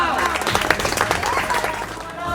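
Applause welcomes a guest speaker at an Ambedkar Jayanti celebration, a steady wash of many hands clapping that stays loud throughout, with some voices and a tonal musical line running underneath.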